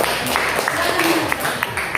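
Applause in a school classroom during a biology lesson on DNA, a short burst of scattered clapping from students mixed with talking voices.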